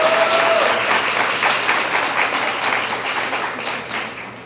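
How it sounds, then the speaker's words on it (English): Steady, dense applause from an audience at an award ceremony, honoring a DJ, a broad wash of clapping that holds for several seconds before tapering slightly. "let's give him a round of applause"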